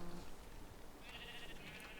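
Sheep in the video game Minecraft bleating faintly, a couple of short, thin bleats over a low, quiet background.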